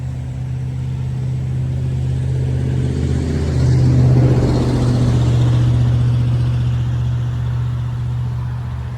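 A 6.2-liter V8 engine in a 2023 GMC Sierra Denali Ultimate pickup idles with a deep rumble, then revs up briefly and settles back to a steady idle, loud and close.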